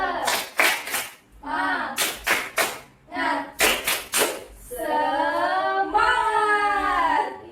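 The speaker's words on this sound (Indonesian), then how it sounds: "marilah kita melakukan tepuk semangat" A small classroom group performs the rhythmic Indonesian "tepuk semangat" spirit clap: sharp patterned bursts of hand claps alternating with children's chanted voices, ending in a drawn-out group shout.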